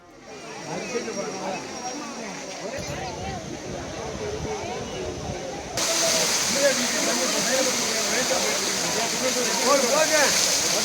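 Courtallam waterfalls pouring a moderate flow of water, a steady broad roar of falling and splashing water that grows louder midway, with crowd voices faintly mixed in.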